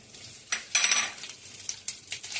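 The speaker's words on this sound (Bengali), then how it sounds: "তেজপাতা, লং, ইলাইচি, দারচিনি গরম তেলের উপরে দিয়ে দিলাম" Bay leaf, clove, cardamom and cinnamon hit hot oil in a pan and are stirred, giving close metallic scrapes and clinks of a utensil against the pan over a faint sizzle, with no talking.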